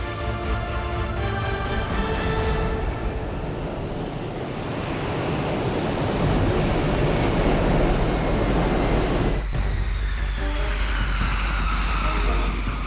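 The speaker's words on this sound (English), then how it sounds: "The pilot holds up the nose to keep weight off the damaged landing gear for as long as possible." An airliner lands on damaged landing gear, a loud continuous roar of rushing wheels and scraping that builds and persists, with a sharp change in the noise near the end.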